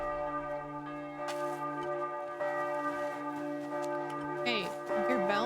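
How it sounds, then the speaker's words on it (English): Church bells ring at midday in the medieval game Kingdom Come Deliverance II, loud sustained ringing tones with rich overtones, heard with faint footsteps and other game sounds. "Hey, your bells are loud."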